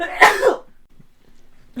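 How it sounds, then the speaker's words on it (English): A single sharp human sneeze, close and loud, bursting out in under half a second, followed by a near-silent pause and a brief hint of a voice at the very end. "Sneeze counter at 3"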